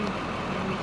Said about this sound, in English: We hear the diesel truck.